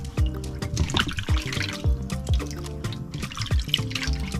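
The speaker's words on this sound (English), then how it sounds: "so I'm going to wash my hand." Running water splashes and trickles as hands are washed under a tap, close and continuous with uneven dripping and a low hum beneath.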